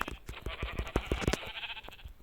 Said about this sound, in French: un petit mouton qui nous attend juste là.